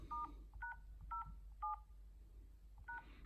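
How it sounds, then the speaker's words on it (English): Phone keypad dialing tones from an iPhone, five short dual-tone beeps in an uneven rhythm, clear and close over a quiet background hum with no talking. "once you do that you press the dial button"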